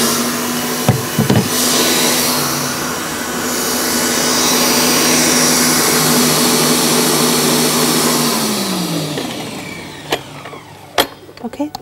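An electric mixer beats eggs and sugar in a continuous loud whir that swells and then winds down and stops, followed by a few clinks.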